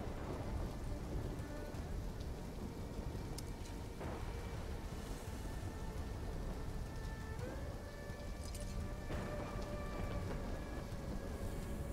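A storm in the video game Call of Duty Black Ops 3: constant heavy rain drums down under rolling thunder, with faint tonal game ambience and no voices.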